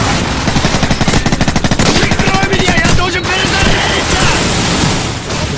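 Gunfire in the video game Call of Duty 4, with a loud rapid automatic burst of evenly spaced shots for about two seconds and then further blasts and rumbling noise.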